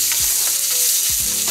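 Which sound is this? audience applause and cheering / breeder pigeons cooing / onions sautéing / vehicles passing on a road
onions sautéing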